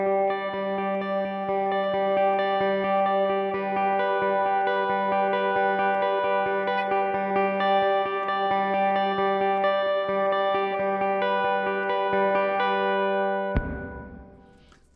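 A guitar chord played through a reverb pedal on its hall setting rings out steadily and loudly for about thirteen seconds, then cuts off, leaving a long hall-style tail that decays away.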